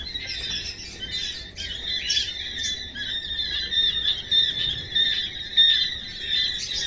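A flock of farm birds gathered together calls without pause, a dense layer of shrill squeals and chirps rising and falling in waves at moderate distance, with no talking.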